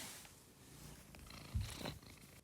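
A cat purrs softly and close by, a low rhythmic rumble with a brief louder stretch midway.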